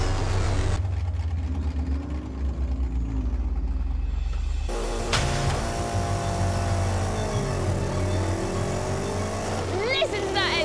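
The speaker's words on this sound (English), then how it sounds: "Listen to that engine!" Custom-built bus engine roaring loudly and steadily throughout, with rising and falling revs, mixed with heavy vehicle and crowd noise at a drag-style run; voices talk over it.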